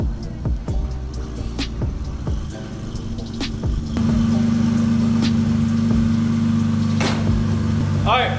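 A BMW E46 engine idles steadily while warming up, a close, constant low hum that steps up slightly in level partway through, with a few faint clicks and taps over it.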